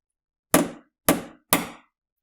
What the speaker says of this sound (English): you just take the point and drive him in.